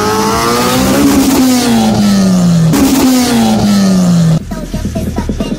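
Cars, including a Toyota Fortuner, launch off the line in a drag race, engines screaming loudly through two rising rev sweeps with gear changes, then cutting back to a rougher, quieter engine note at the end.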